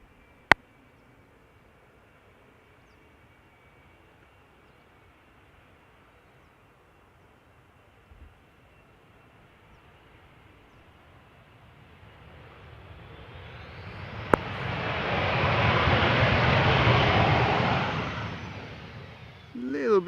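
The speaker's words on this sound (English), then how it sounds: "Little bit of reverse thrust there, not too long." An airliner landing at Amsterdam Schiphol on a misty day, its reverse thrust rising into a broad, loud roar in the final seconds after a long, quiet stretch of low rumble.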